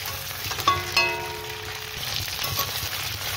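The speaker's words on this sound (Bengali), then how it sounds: "মাংসটা লাল করে ভাজা হয়ে গেছে" Chicken pieces frying in a shallow layer of oil on a home stove, a steady faint sizzle with a couple of clinks from a utensil against the pan near the start.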